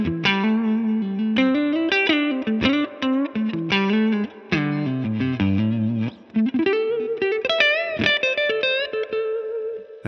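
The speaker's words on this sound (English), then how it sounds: "Now with the compressor on, it's going to sound like this." Electric guitar played through an Amplitube Mesa/Boogie California Tweed amp simulation with a compressor engaged, a loud, sustained run of plucked notes and chords with a smooth, even level and light reverb, heard alone without any talking.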